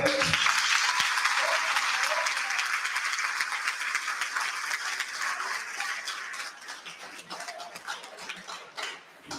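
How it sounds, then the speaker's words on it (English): Campers at a graduation ceremony applaud their instructors in a dense, steady round of clapping that fills the room, then slowly thins and fades toward the end with a few scattered claps. "let's clap for our instructors"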